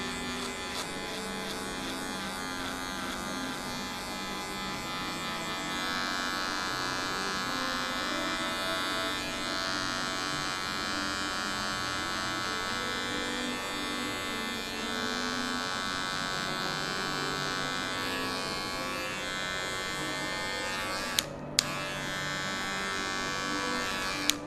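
Electric hair clippers buzz steadily and continuously at close range while cutting a mid fade haircut in a barbershop, with a brief clatter near the end and no talking.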